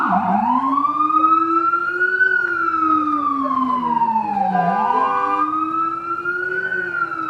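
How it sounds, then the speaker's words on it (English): An ambulance siren wails loudly nearby in snowy Brooklyn traffic, sweeping up and down in pitch, with a faint hum of traffic underneath. "Ambulance in traffic."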